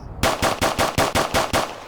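A rapid string of about eight evenly spaced gunshots from a weapon in a video game, loud and close with a sharp, rhythmic cadence and no talk.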